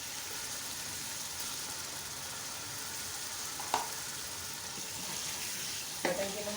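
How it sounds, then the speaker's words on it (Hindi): Mutton sizzles and fries in a pot for a mutton and whole moong dal curry, a steady soft crackle with two brief clanks of stirring, no voices. "जो हमने मटन लिया है वो डाल दें।"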